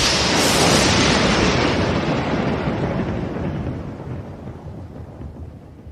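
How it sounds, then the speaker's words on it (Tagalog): A loud thunderclap breaking at the start and rolling into a long, deep rumble that slowly fades over several seconds, with no voices. "Naggulantang ang kulog."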